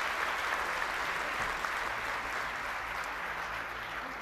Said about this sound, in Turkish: Sizden bir küçük alkış istiyorum onun için.